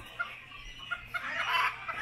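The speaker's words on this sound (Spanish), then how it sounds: "Estos son gallos japoneses." Several short clucks from Japanese chickens come from close by, spaced irregularly over a low steady background hum, with a slightly louder burst of fowl calls near the end.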